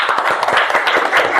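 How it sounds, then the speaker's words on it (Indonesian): Applause from a school audience at an SMK (vocational high school) gathering, a dense burst of many hands clapping close and loud, steady throughout with no gaps. "Ya, beri tepuk tangan."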